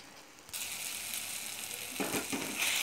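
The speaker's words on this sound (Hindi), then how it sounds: "इसको भी मसालों के साथ मैं भूनूंगी" Fresh peas frying in oil with spices in a pan, a close, steady hissing sizzle with brief stirring scrapes toward the end, no voices.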